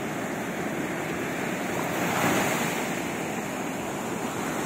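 Steady wash of Black Sea waves on the shore in Odesa on an October evening, a soft continuous roar that swells slightly midway, heard without any voices.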